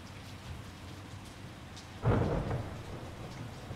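A thunderstorm in the video game Everhood brings steady rain hissing throughout, with a deep thunder rumble swelling about midway and slowly fading, heard alone without any voices.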